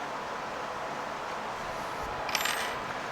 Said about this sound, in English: Allen keys can go in here.